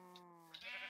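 A Minecraft sheep gives a single wavering, harmonic bleat, close and clear, with a short shaky rise at the end and no speech.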